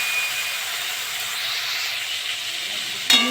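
Shrimp sizzling in hot oil in a pan already seasoned with whole cumin, for a prawn and okra chochori; a steady, close frying hiss that jumps sharply louder near the end.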